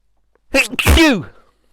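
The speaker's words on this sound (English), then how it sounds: "I'm going to sneeze." A single sharp sneeze close to the microphone, a quick intake followed by a forceful burst, with quiet before and after.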